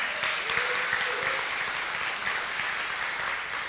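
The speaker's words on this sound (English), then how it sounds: "Would you give yourselves a big round of applause?" A church congregation applauds, sustained warm clapping from a large indoor crowd that stays even and full throughout, with faint voices mixed in.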